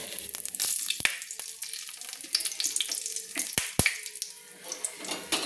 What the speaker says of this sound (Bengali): তেলটা আমার গরম হয়ে গেছে। এবার আমি ফোড়ন দিয়ে দিচ্ছি।